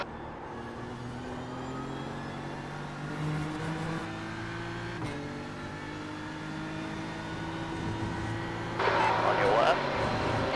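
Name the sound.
faster GT car approaching in racing video game, IMSA Watkins Glen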